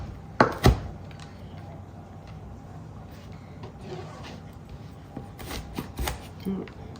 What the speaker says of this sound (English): So I'm going to go ahead and just cut this up. Just give it a good chop.